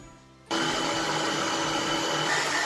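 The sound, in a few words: beating eggs with sugar until pale for a Christmas log cake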